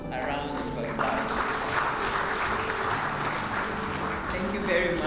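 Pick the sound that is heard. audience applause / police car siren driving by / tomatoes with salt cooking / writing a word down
audience applause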